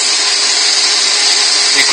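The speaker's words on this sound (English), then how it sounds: "you can keep sanding until those pencil marks disappear" Abrasive sanding on a wooden bowl spinning on a lathe, using a friction bowl sander, gives a continuous bright hiss and whir at steady volume, close by, with no pauses.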